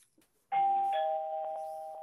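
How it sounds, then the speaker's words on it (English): A household doorbell rings once, a clear close electronic two-tone chime that sustains and slowly fades in an otherwise quiet room. "My doorbell just rang."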